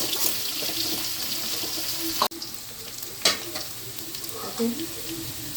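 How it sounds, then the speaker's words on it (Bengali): Potatoes frying in a home kitchen pan with bay leaf and cumin, a steady close sizzle with stirring scrapes and a sharp clack midway. "আলুটা একটু ভাজা ভাজা হোক"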